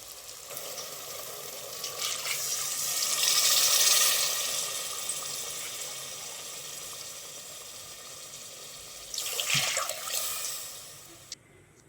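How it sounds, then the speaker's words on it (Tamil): Water pours into a pot, swelling to a rushing splash and easing off, followed later by a second brief gush and a clink. "இப்போ நம்ம தண்ணி சேர்த்துக்கலாம்."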